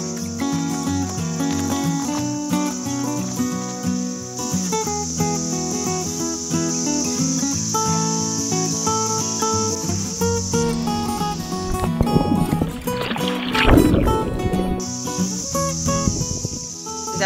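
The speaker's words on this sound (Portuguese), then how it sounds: "E olha esse barulhão das cigarras." Loud cicadas near Alice Springs in the Australian outback make a dense, continuous shrill buzz that pulses slightly and dominates the scene for the whole stretch, with some brief rustling noise near the end.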